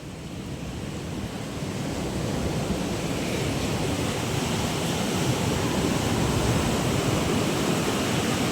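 Sea waves surging into a seaside hut and over the fence corner, a loud continuous roaring wash of water with steady windy noise.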